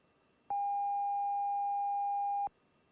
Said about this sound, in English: We have an alarm